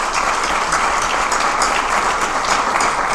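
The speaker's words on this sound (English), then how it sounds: "So please, a round of applause for her." Audience applause at a Granada Chamber of Commerce event, a dense, steady burst of many hands clapping in a room, loud and sustained for the whole stretch.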